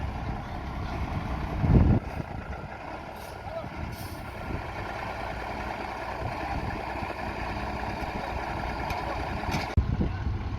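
Heavy house-moving truck with a sliding hitch manoeuvring: a steady low engine rumble and idle throughout, with a louder burst near the start and another near the end, outdoors and fairly close.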